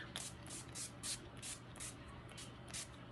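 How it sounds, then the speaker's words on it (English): Quick repeated hissing spritzes of a NYX matte finish setting spray misting onto a face, about a dozen short bursts in an uneven rhythm, close and fairly soft. "I forgot to spray my face."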